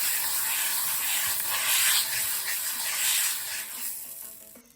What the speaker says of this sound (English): I'm going to rub some butter in the base of the pot here.